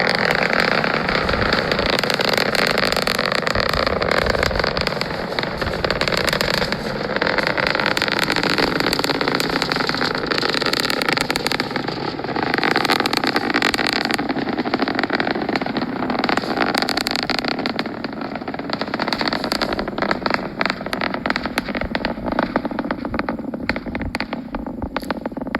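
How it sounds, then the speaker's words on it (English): A SpaceX Falcon 9 rocket carrying Starlink satellites, launched on a clear Florida night and heard from about 40 miles away, gives a continuous loud rumbling roar with crackling texture that holds steady throughout. "A bright and brilliant liftoff on a clear Florida night as the Falcon 9 rocket streaks up into the night sky."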